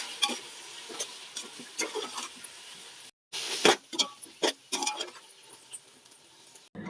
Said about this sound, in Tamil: இது பச்சை வாசனை போகிற வரைக்கும் கொஞ்சம் கிளறிக்கலாம்